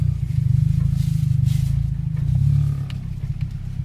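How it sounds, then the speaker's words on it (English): A turbocharged car engine drones low and steady while driving, with faint clattering knocks from a broken axle underneath; no voices. "Yeah, that sound is a broken axle."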